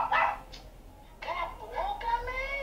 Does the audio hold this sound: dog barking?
yes